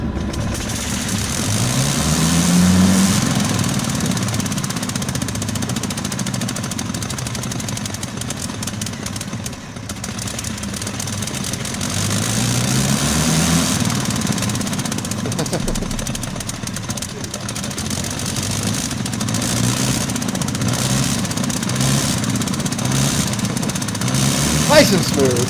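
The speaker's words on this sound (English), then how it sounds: "Sounds like a two-stroke." A Gnome rotary aircraft engine runs steadily at a smooth idle, with a buzzy, rapid two-stroke-like beat that stays loud throughout, rising slightly at times, with no clear talk over it.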